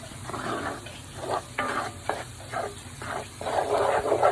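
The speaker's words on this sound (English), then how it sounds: "Then you are going to mix that up really well into the sausage and the grease along the bottom." Flour being stirred into browned sausage and grease in a frying pan for sausage gravy, a steady sizzle under repeated scraping strokes of a utensil, close and moderately loud, with no talking.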